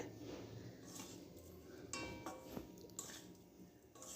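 A spoon stirs a coconut and sugar mixture in a pan as the sugar melts. Faint, steady scraping comes with light clinks against the metal, all quiet and continuous.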